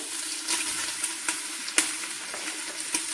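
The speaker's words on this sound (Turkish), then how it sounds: "Etin çünkü suyunun içinde kalması için kızgın tencerede şöyle bir çevirmemiz lazım" Steady sizzling and crackling of meat searing in a hot pot for kavurma, with a few sharp pops and clicks scattered throughout.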